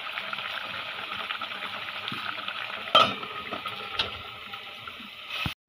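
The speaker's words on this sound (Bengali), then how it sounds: "শাকটাকে একটু ভাজা ভাজা করে নিই" Greens stir-fried in a pan give a steady sizzle with scraping stirs and a few sharp utensil clinks, close and continuous with no talk.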